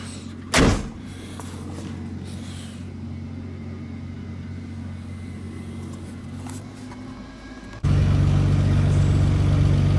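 A Nissan Skyline R32 GTR car door shuts with a single solid thump against new weather seals near the start, followed by a steady low hum, then a louder engine-like drone near the end.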